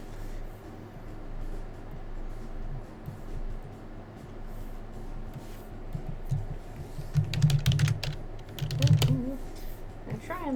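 Typing on a computer keyboard, a soft, close, irregular patter of keystrokes that grows busier toward the end, with faint background noise and no talk.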